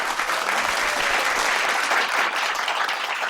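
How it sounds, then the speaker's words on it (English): Sustained audience applause at a cabaret spoken-word night after a poem, a dense, even clapping from a crowd that stays loud throughout. "Let's have another round of applause for Ken"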